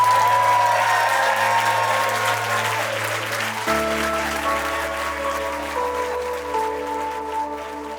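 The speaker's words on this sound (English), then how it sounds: "Everyone, please give a cheer" Wedding guests applaud loudly and steadily to welcome the newlyweds, a dense, close clapping crowd heard over a sustained backing music bed.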